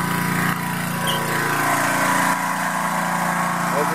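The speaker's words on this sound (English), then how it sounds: "I'm gonna come over here and show you the generator." A portable generator runs nearby at a steady, droning engine pitch, powering a home through a power inlet, with a slight shift in tone partway through and no voices.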